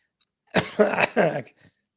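A single harsh cough burst in two or three quick hacks, close and loud, then silence.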